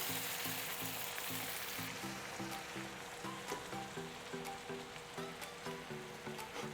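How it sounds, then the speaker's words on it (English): A half cup of wine hits a hot pan of Salisbury steak drippings, giving a steady, close sizzle and bubbling hiss that runs throughout with a faint rhythmic knocking underneath and no talking. "But I'm adding a half a cup of wine here."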